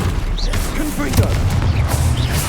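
A Confringo blasting spell going off in Hogwarts Legacy, a booming burst amid dense combat effects and rumbling, loud and close, with layered magical whooshes over a steady low drone.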